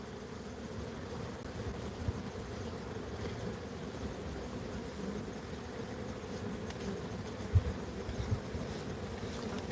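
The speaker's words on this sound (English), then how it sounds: "Every once in a while you'll have one buzz by your bee suit" Honeybees buzz around an opened hive during honey pulling, a steady low droning hum of many insects close by, with occasional louder passes and faint knocks of equipment; no talking.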